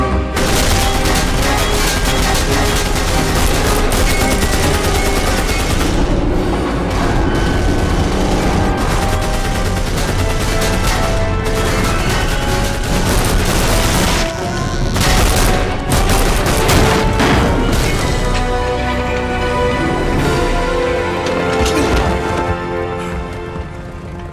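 Sustained, loud bursts of automatic gunfire and explosions in the World War II shooter game Wolfenstein (2009), with barely any pauses, layered over game music and clatter.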